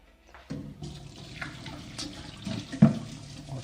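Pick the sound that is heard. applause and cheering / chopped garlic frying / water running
water running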